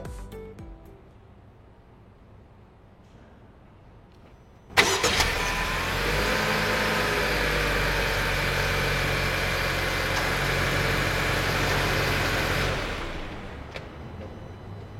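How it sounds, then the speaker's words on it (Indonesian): A Honda CR-V Turbo 2021 fires up by remote start with a sharp onset, then idles steadily and evenly for about eight seconds before quieting, heard alone with no talk. "kalian bisa nyalain mobil ini untuk warming up atau biar AC-nya dingin dulu lah dari luar dengan hanya menekan tombol ini"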